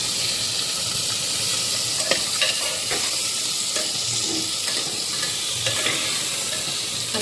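Vegetables drop into hot oil and sizzle with a loud, continuous hiss, broken by a few stirring knocks against the pan, close up and with no talk.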